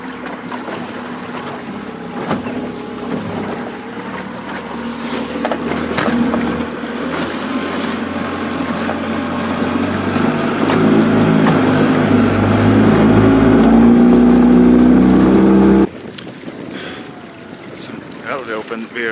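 A boat motor drones steadily over water, growing louder and fuller before cutting off sharply near the end, with a quieter hum continuing afterward.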